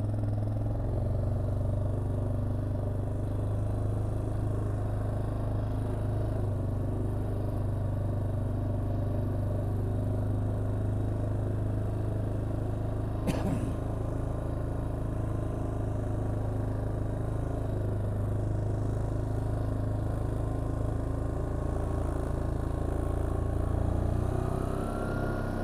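Quad bike engine running steadily at a low drone beside an autumn lake, close and continuous for the whole stretch, with no talk.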